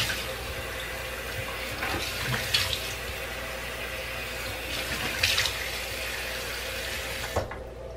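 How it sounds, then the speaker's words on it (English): Warm tap water runs steadily into a bathroom sink while someone wets their face, a soft continuous splashing stream with occasional louder splashes from hands cupping water. "And so first thing I do is wet my face."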